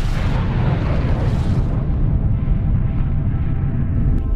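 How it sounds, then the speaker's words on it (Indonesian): Large explosion in New York City in a film scene, a loud, dense roaring blast that rumbles on and slowly decays. "tiba-tiba sebuah ledakan besar terjadi di jantung kota New York"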